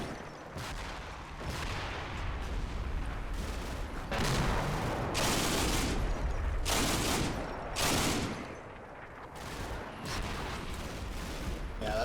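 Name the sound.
gunfire shooting at a Hellcat in video game Combat Mission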